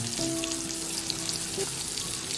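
Pieces of elephant foot yam (karunai kizhangu) fry in a pan with a few curry leaves, giving a dense, crackling sizzle with faint pops, close and constant throughout.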